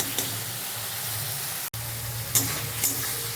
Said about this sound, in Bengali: ভেজে রাখা আলুগুলো এর মধ্যে দিয়ে দিলাম। এখন ভালো করে মশলার সাথে কষিয়ে নিই